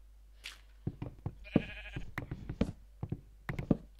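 Sheep bleats from Minecraft, several short bleating calls with knocking game sounds in between, close and fairly loud against a low steady hum.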